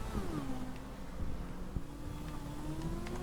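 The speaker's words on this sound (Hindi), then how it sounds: "अब गाड़ियों को उतार लेते हैं नीचे तीनों को।" Cars rolling down a truck ramp in the GTA 5 video game, a low steady engine hum with a faint rising whine and a brief thump, fairly quiet and continuous, no talking.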